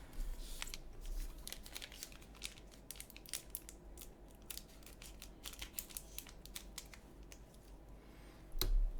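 Scissors snip and crinkle through the foil of a One Piece trading card booster pack in a quick series of close, sharp, irregular cuts and rustles, quiet overall, with a louder crackle near the end.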